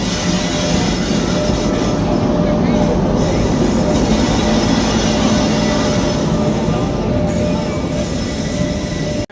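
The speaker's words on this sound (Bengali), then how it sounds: "ও ট্রেন যাচ্ছে, ট্রেন আসছে মেবি, হ্যাঁ ট্রেন আসছে।" A train rumbles past close by, a loud steady roar of wheels on rails that fills the whole clip before cutting off at the end.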